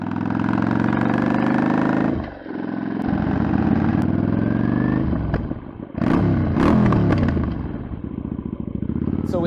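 A motorcycle engine revs loudly and close, a sustained throaty drone that swells and dips twice with short pauses between, ending in a rougher, uneven idle.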